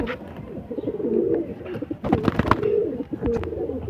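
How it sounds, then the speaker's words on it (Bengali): A short-sized Kasuri or Rampuri pigeon coos close by in repeated low, rolling phrases, with a few sharp clicks and shuffling noises in between. "পায়রাটার সাইজটা খুব বেশি বড় না শর্ট সাইজের পায়রা আছে"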